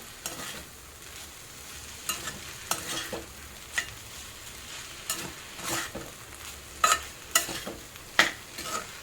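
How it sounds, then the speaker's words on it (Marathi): Grated sweet potato mixed with crushed peanuts gets stirred in a pan, with a soft background sizzle and a series of irregular scraping strokes from the spoon, some sharper than others. "आता आपण त्याच्यामध्ये हा शेंगदाण्याचा कुट्टा टाकूया चांगलाच हलवून घ्यायचा"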